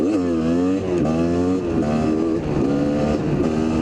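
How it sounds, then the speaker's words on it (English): A Kawasaki KDX250 dirt bike engine lugs at low revs in fifth gear, a loud, steady close-up drone whose pitch wavers slightly as the throttle is rolled on, with no talking. "this motor is a lugger"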